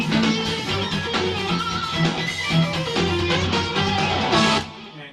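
Electric guitar playing the B-section melody of a rock instrumental, a continuous sustained lead line with bends over a full backing track, loud and steady before cutting off near the end.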